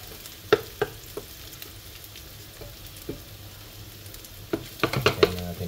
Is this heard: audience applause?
no